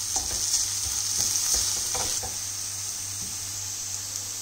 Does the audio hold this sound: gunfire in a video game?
no